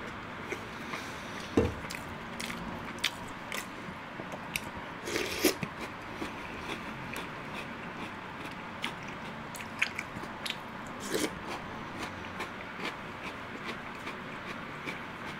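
Chewing on crunchy snacks such as twisted sticky-rice doughnuts and cereal, with steady close crunching and a few sharper bites, all quite faint.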